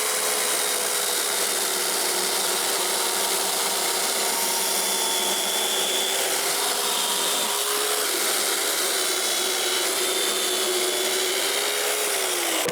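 A budget DCA electric chainsaw cuts through a heavy, solid log about 16 cm thick with a loud, steady, close-up whine. The pitch dips briefly partway through and then holds until the end.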